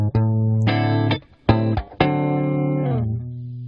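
An electric guitar played through a GarageBand virtual amplifier with its tone knobs set to the middle: a few sustained distorted chords and notes with short gaps and sharp attacks, loud and close, with no talking.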